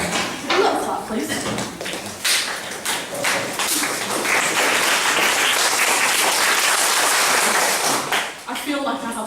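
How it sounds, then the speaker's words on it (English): Student audience at a freshers' week comedy improv night clapping in a dense, sustained burst for about nine seconds, loud and close, with voices mixed in and a brief lull near the end. "So a little clap, please."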